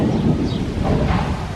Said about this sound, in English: the wind is blowing them over to the side because it's really windy today